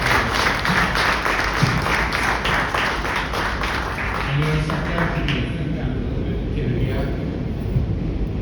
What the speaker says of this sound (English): Give Pandit Krishna a round of applause.